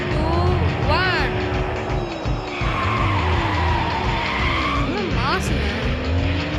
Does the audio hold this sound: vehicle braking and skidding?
yes